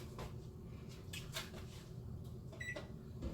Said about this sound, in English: you hear the oven beeping?